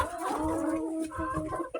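Hens cluck and murmur close by inside a coop, several birds overlapping in a steady, busy chatter with no talking.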